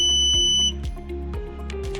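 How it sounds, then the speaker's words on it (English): Growatt THOR 07 SE EV charger sounds a single sustained high electronic beep during Wi-Fi setup, cutting off after under a second, over a steady low background hum with faint clicks. "The EV charger made a beep sound"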